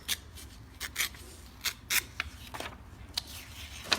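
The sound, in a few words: folded paper being trimmed by hand for a slipcase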